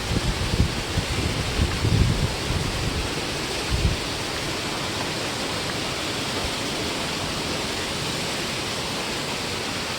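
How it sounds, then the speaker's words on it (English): Steady rushing water, like a stream or small cascade, fills the scene with a constant broadband hiss beside a wooden walkway at a canal in Metamora, Indiana; a few soft thumps early on. "I love the sound of that water."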